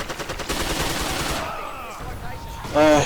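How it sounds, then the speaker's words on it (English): Rapid submachine gun bursts from a Thompson in the video game Forgotten Hope 2, a quick rattling volley followed by fading echoes, ending with a short voice shout. "the Thompson is specialized in this way of fighting, like all submachine guns, which you can see very nicely in this clip"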